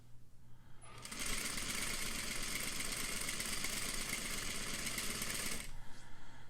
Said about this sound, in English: I'm going to stretch it again to continue sewing.